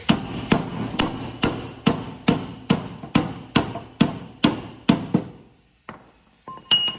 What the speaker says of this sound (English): tapping it out with his big whacker stick